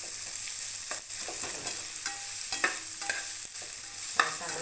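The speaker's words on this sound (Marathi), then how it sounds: "थोडंसं लाल करायचा कांदा." Onion fries in a pan with a steady close sizzle while a spoon scrapes and stirs it in repeated strokes, with occasional metallic taps.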